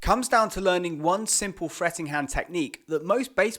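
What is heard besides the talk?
No everyday noise stands out behind the speech.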